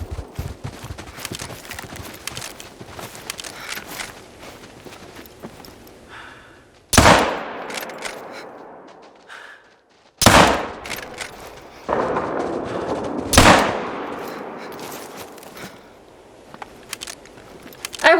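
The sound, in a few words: gunfire in the video game TheHunter: Call of the Wild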